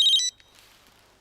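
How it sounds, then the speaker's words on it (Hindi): A phone rings in a short, bright electronic burst lasting about a quarter second, fairly loud and close, then drops away into near silence. "ये तो फ्रेडिक्स का फोन है"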